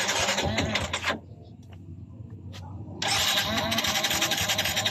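A Yamaha Vega Force 115 fi motorcycle that has stalled and will not start with fuel in it cranks loudly in two bursts separated by a short quiet pause, its engine never catching.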